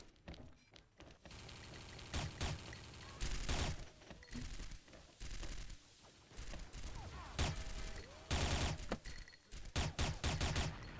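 Rapid bursts of gunfire in the first-person shooter XSHOT, loud and close, coming in repeated volleys separated by short gaps.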